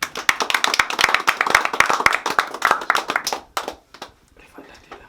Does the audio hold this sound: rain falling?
no